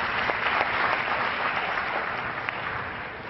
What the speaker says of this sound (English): round of applause for Kohort.